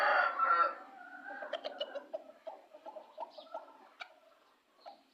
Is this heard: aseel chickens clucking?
yes